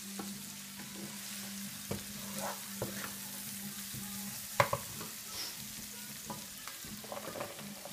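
Two whole yellow squash, diced into bite-sized pieces, sizzle steadily in a hot pan with a constant broadband hiss, broken by scattered light clicks and one sharper knock of stirring partway through; no one speaks.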